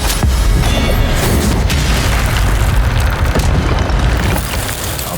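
Incendio fire spell cast in the video game Hogwarts Legacy, a loud, dense burst of roaring fire and explosive rumble filling the whole stretch, fading slightly at the end.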